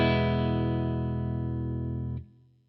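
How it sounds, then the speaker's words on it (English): A guitar chord is strummed from the low strings to the high strings, then rings as one sustained, bright tone that holds steady before being cut short, close and clear. "So if I just strum this chord from low to high,"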